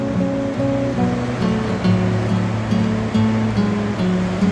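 Sea waves washing against the coast of Portugal on a misty morning, a loud, steady surging rush with gentle swells in intensity, alone without voices.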